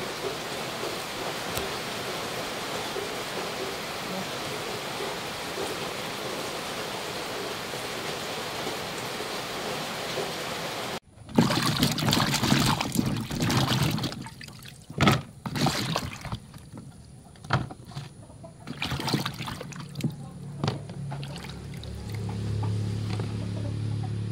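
Steady rain falls as an even, continuous hiss for about eleven seconds. Then nearer, louder kitchen clatter and bursts of cooking noise take over while the rain stays faintly underneath.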